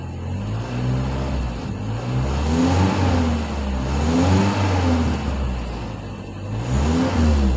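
A car engine converted to run on CNG, revved and held at a steady elevated speed, with a loud continuous hum that swells and eases slightly in waves, close up, with no talk.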